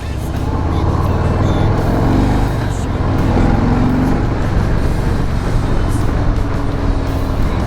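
A 2018 Harley-Davidson Breakout 114 motorcycle rumbles loudly and steadily just after starting. The deep engine drone fills the whole stretch at close range, with no clear speech over it.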